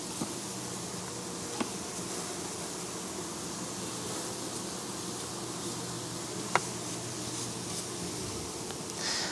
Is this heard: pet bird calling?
no